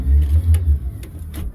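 A Hewescraft 24 Ocean Pro boat's engine gives a brief low rumbling rev as it is shut off, steady and close, then settles under faint clicks.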